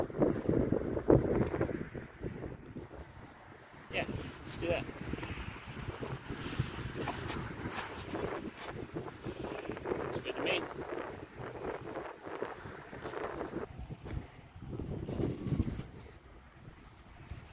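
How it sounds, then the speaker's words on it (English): Wind blowing across an outdoor disc golf course, a rough, gusty rumble buffeting the microphone throughout, rising and falling in strength, with people talking at times. "Lots of wind."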